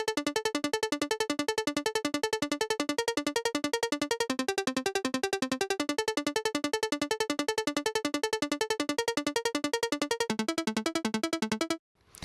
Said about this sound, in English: add some 16th note pattern to it.